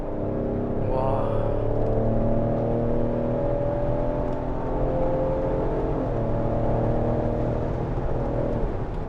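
A 400-horsepower Ford Explorer ST SUV accelerates hard, its engine note climbing steadily and loudly through the gears from inside the cabin.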